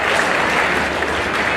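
Loud, steady applause from a large crowd at a public welcome event for the Chief Minister, dense clapping filling the whole stretch without a break.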